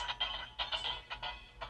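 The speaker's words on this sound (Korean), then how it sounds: "알람음과 메시지가 왔다 그런 사운드가 나오는데" Electronic alarm and incoming-message tones from a Kamen Rider Zero-One DX Hiden Risephone toy, a short run of bright chirping beeps in quick bursts with brief gaps, close and moderately loud, with no talk.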